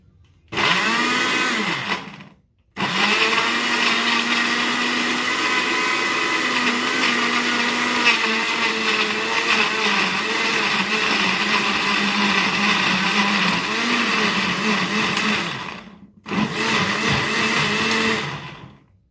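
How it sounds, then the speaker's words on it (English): A blender whirs loudly through tomatoes and capsicum, starting with a brief pulse, then running in one long steady burst, stopping, and finishing with a shorter final run. "so I'm going to blend the tomatoes and the capsicum"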